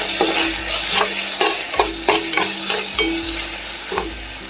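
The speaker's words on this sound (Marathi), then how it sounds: "टोमॅटोसुद्धा लवकर भाजला जातो त्याला आता यामध्ये एक अर्धा चमचा हळद हिंग अर्धा चमचा हे असं चांगले परतून घ्यायचं" Tomato sautéing in a pan with turmeric and asafoetida, loud close sizzling broken by regular spatula scrapes and taps roughly every half second.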